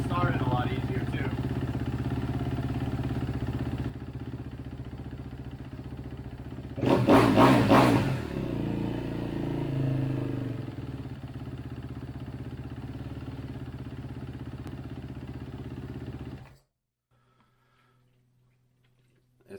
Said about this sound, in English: this thing actually is idling down and accelerating, not hanging